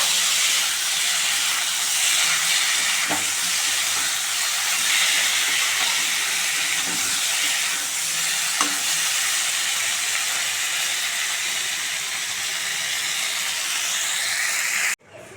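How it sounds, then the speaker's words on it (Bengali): Cauliflower and potato being sautéed in a pan, a steady loud sizzling hiss that runs unbroken for the whole stretch, with a few faint knocks of a utensil along the way. "ফুলকপি আর আলুটাকে আমি ভালো করে কষিয়ে নেব।"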